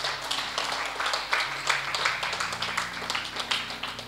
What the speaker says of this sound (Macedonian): Ај аплауз за Исус.